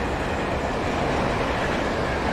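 A train rushes past in the video game Alan Wake, a loud, dense, continuous roar with rumbling wheels, close and steady throughout.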